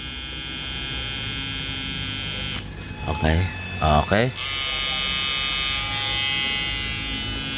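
A blower fan runs on a 12-volt battery-powered inverter fishing machine that has a fault and won't sound, giving a steady electric buzz and hum throughout. Someone speaks briefly in the middle.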